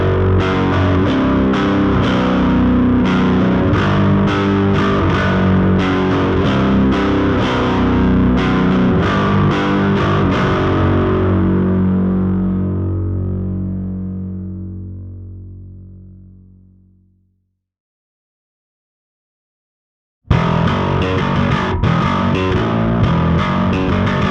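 Heavily overdriven bass guitar through a BassRIG Super Vintage pedal, playing loud distorted riffs that ring out and slowly fade to silence, then return abruptly at full volume.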